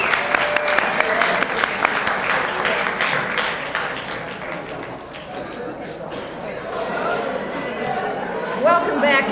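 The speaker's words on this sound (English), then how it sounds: "let's have another applause for our speeches." An audience at a college awards evening applauds after speeches, with a dense burst of clapping that thins and then swells again while voices chatter over it.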